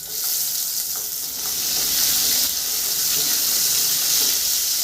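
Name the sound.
tengra fish frying in hot oil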